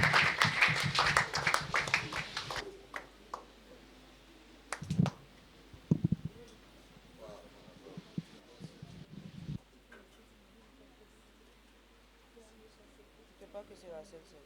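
A church congregation at a communion service claps and applauds, a dense burst of hand claps at the start fading into scattered claps and cheers amid murmuring voices.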